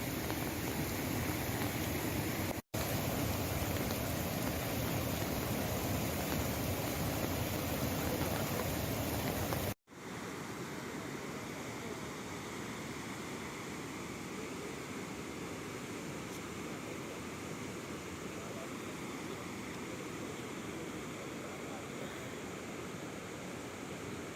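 Swollen monsoon river rushing beneath the submerged Amberi bridge in Sindhudurg, a steady dense roar of water with a brief cut near the start and another around ten seconds, continuous and unbroken throughout.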